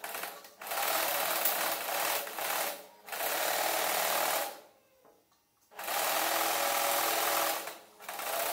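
Sewing machine stitching round elastic into a homemade fabric face mask, running in steady bursts with short pauses and a brief quiet gap midway, close and alone without talk.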